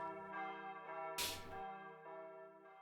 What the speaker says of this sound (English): The rolling sound of bells.